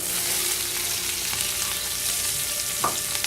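Chopped onion goes into hot sunflower oil in a skillet and sizzles loudly and steadily up close, with a brief spatter burst near the end.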